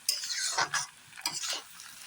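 Chowmein with eggs and spices is stirred in a pan, scraping and clinking strokes in uneven bursts over a faint sizzle, close and fairly quiet with no talk.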